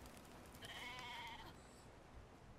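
A sheep in the video game Brothers: A Tale of Two Sons gives a single short, wavering bleat, faint and low in level, over quiet game ambience.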